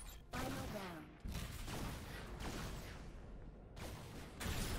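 Dense gunfire and explosions fill a chaotic Lemnis Gate video game match, with continuous layered shooting and whooshes played loud and unbroken throughout.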